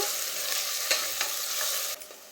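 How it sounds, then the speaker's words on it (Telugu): Thinly sliced onions and green chillies fry in hot oil, a dense, loud, hissing sizzle up close, broken by a couple of light utensil taps as they are stirred. "ఆయిల్ వేడైన తర్వాత సన్నగా కట్ చేసుకున్న ఆనియన్స్, పచ్చిమిరపకాయలు వేసుకొని వేయించుకోవాలి."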